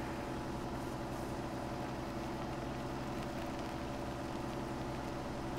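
Tractor engine driving at speed in Farming Simulator 17, fitted with turf tires, a steady continuous drone with low rumble that holds level throughout without pause.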